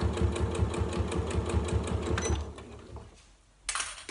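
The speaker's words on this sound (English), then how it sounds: "I literally just want to sew this little seam up." A sewing machine stitches a seam on a fabric tote bag with fast, even mechanical clatter up close, then slows and stops, followed by a brief rustle of fabric.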